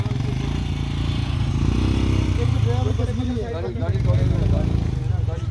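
Motorcycles of a group of bikers riding past on a road trip toward Ladakh, engines droning and revving close by in a continuous rolling passage, with someone talking over the noise.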